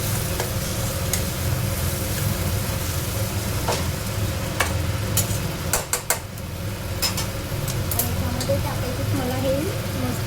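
Fried bitter gourd is stirred into a peanut and coconut gravy over a continuous sizzle, with scattered sharp spatula clicks against the pan and a voice faintly in the background.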